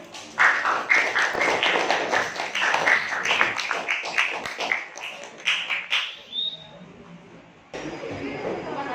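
A classroom of students claps for a group that has just finished presenting, a dense run of close, overlapping hand claps with chatter mixed in, thinning out toward the end.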